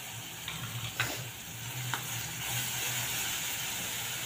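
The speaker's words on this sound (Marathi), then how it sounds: "तर आता हा ठेचा देखील आपल्याला छान परतून घ्यायचा आहे।" Crushed green chilli and garlic thecha frying in a tempering with a pinch of turmeric, giving a steady close sizzle with a few stirring scrapes early on, alone without talk.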